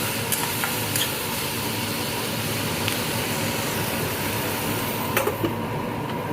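Onion, tomato and turmeric masala cooking in a pan over a low gas flame for paneer bhurji, a steady soft sizzle with faint occasional clicks, no voices.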